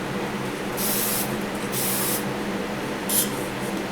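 A spray gun lays a diamond dust silver base coat on a 1968 Pontiac Firebird during restoration. Three short hissing bursts of spray, the last one briefest, sit over a low steady background hum.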